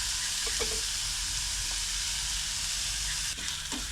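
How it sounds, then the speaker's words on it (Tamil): Onions fry in a pan in a village kitchen with a loud, continuous sizzle and hiss that holds steady throughout, with a few faint stirring knocks near the end and no talking. "நல்லா வெங்காயம் வதங்கட்டும்"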